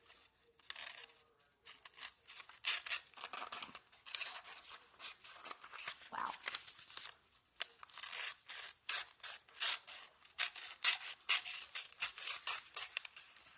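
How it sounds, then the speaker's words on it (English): A Leatherman Squirt PS4 mini multitool knife slicing through paper makes a rapid series of crisp, dry rasping strokes, close and fairly quiet, continuing for most of the span after a brief softer opening. "So I'm like cutting the paper, but here's a glide."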